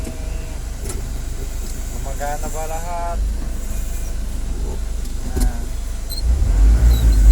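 A Sinotruk truck's freshly overhauled engine runs on a test drive, a steady low rumble with road and cab noise that swells louder toward the end, while someone talks briefly over it.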